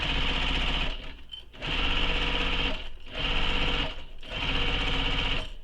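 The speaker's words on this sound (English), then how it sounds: "you can use a longer stitch length for this because we're just basting it together" A sewing machine basts fabric with a long stitch length, running in four steady, loud bursts of rapid whirring stitching separated by brief pauses.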